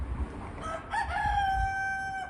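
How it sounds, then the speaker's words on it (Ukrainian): A rooster crows once, a drawn-out cock-a-doodle-doo rising and holding its note, fairly close over a low background rumble. "І ця падлюка вона кукарікає вночі, зранку, цілий день, ввечері, завжди."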